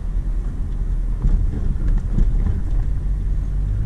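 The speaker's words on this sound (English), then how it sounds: "We'll hit a bump again and give it a listen." A used car rolling over a bump during a suspension check, heard as a low continuous road rumble inside the cabin with a couple of soft thuds in the middle, no harsh clunks.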